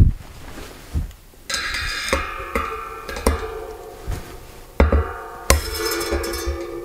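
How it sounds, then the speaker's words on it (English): Steel hammer blows on a screwdriver driving a sealed cartridge bearing out of a road bike wheel hub, a series of about eight sharp metallic knocks at an uneven pace, close and loud over a ringing background. "let's knock that bearing out"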